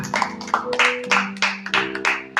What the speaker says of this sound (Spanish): Dele nuevamente usted a Él una vuelta de aplauso